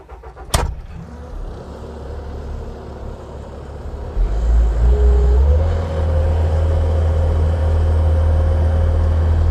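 A 2022 Bobcat T770 skid steer loader starts with a short crank and sharp catch, then its diesel engine settles into a loud, steady idle and rises to a deeper, stronger rumble as it keeps running nearby.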